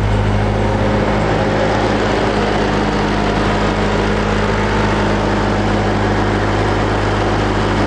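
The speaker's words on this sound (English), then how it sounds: "the engine while it's running" A 707-horsepower Jeep Trackhawk engine idles steadily, a loud, constant low rumble with an even drone and no revving or voices.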